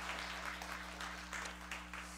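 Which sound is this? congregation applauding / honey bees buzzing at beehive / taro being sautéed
congregation applauding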